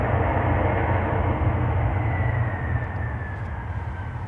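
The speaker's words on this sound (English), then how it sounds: "Sounds like a full 767 here." A fully loaded Boeing 767 jet at the Memphis cargo hub roars loud and close in a steady, dense rumble that holds for several seconds and eases slightly toward the end.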